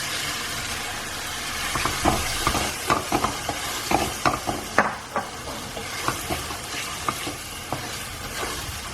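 Canned chickpeas stirred into sizzling curry paste in a pan, with a steady fry hiss under repeated scraping, clattering stirs of a spoon through the thick mixture.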